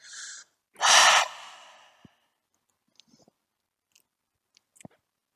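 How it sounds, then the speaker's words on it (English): Deep breaths during a yoga strap class: a long audible sigh-like exhale through the mouth, preceded by a softer breath, then quiet with faint small clicks and rustles. "Inhale deeply and exhale out of the mouth."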